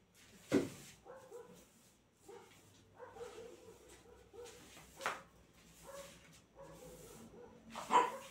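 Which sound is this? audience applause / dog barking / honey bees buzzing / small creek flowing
dog barking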